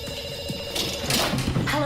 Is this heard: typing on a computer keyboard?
no